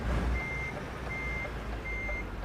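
A DAF XF 510 truck in Euro Truck Simulator 2 backs into a dock, its reversing alarm giving three steady, evenly spaced beeps over a low engine rumble, with no voices.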